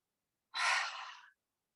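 One deep breath drawn in during yoga practice, a soft, close airy inhale lasting under a second, alone in quiet.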